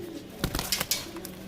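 A pair of Rajasthani pigeons is let go, giving a few sharp wing-flap bursts close by over a soft, low cooing in the background.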